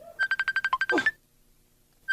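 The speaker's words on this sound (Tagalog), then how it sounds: "Ring-aring pa'y laang matay ito cellphone ko." A cellphone ringtone plays close and clear, a quick run of evenly spaced electronic beeps ending in a brief flourish, then silence before a single beep starts the pattern again.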